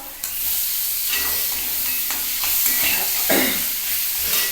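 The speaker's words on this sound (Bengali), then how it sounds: "পেঁয়াজটাকে ভেজে নিচ্ছি কী হয় পোস্ত তার টেস্ট বেশি বাড়ে এইবার আমি দিয়ে দিচ্ছি একটু টমেটো" Onions frying in a pan with tomato added, a continuous close sizzle broken by scraping stirs and a few sharper bursts as the pan is worked.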